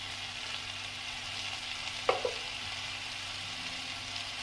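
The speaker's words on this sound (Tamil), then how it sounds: "கொஞ்சம் கிளறிக்கலாம்." Tomato chutney with coconut sizzles quietly in a pan, a soft, steady frying hiss broken by one or two brief scrapes of stirring.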